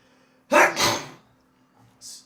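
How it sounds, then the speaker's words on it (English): A single sharp, forceful sneeze bursts out close up, followed after a short pause by a brief breathy sniff. "I have powerful sneezes."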